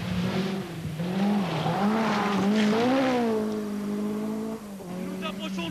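Ari Vatanen's rally car sweeping through a long fast left-hander on the 1000 Lakes Rally in Finland in 1984, engine howling loud and close at high revs with pitch rising and falling, under continuous commentary.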